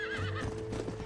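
A bucking bronco horse whinnies in Red Dead Redemption, a short wavering neigh over hoof clatter and low ambient noise, with no talking.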